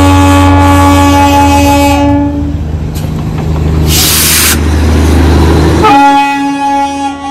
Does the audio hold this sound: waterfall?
no